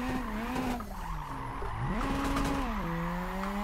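A drift car at FIA Tsukuba with Mad Mike Whiddett, making a 100 mph chicane initiation with a hard clutch kick. The engine wails up and down in pitch over a continuous, loud tire squeal.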